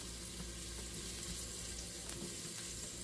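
Mushrooms fry in a hot pan with seasonings for a cheesesteak, giving a steady, even sizzle close by with no talking.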